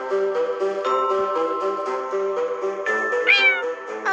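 A cat meows repeatedly in the game Cat Simulator, with clear, close, tonal mews following one another over a few seconds and no voices.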